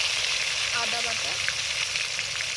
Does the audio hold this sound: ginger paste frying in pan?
yes